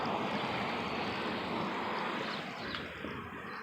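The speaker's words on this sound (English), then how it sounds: "And then we got a little waterfall going on." A small waterfall in a summer garden makes a steady, soft rush of falling water that fades slightly toward the end.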